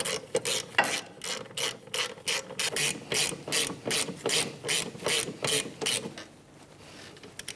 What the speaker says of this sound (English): With a 14mm socket, tighten these down.